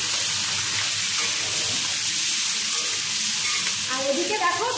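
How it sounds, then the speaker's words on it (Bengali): Fish frying in hot oil gives a loud, dense, continuous sizzle close up, with bubbling spatter growing more active toward the end. "আর এদিকে মাছ ভাজাটা হোক।"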